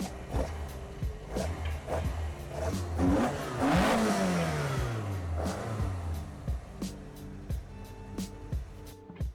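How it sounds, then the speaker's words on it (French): A slalom race car engine starts and revs, climbing through a sweeping rev rise and falling back, then settling into a choppy, lumpy idle with sharp blips, loud and close. "Est-ce que tu peux nous démarrer ton bolide?"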